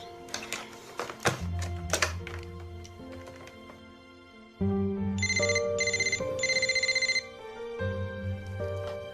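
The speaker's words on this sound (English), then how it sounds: "I'll call his cell phone." A cell phone rings amid gentle background music in a romantic movie scene, with a burst of repeated electronic chirping trills cutting in midway, moderately loud and close.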